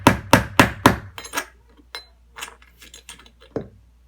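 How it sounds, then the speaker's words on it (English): A hammer strikes a nail into wood four times in a quick, even rhythm, then lighter scattered taps and clinks follow, close and sharp. "I'm going to take a nail and this hammer now"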